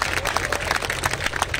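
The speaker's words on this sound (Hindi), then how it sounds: "आप तालियों में बहुत कंजूसी कर रहे हैं।" Audience applause at the 1st Open Body Building Championship 2021 in Dera Bassi, Punjab: brief, fairly thin clapping from a crowd, steady and close.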